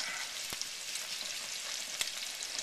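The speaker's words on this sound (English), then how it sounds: "But you do have to stir it up." Gravy with half and half being stirred in a pan, a steady sizzle and soft bubbling throughout with a couple of faint utensil clicks against the pan, close and continuous, no talking.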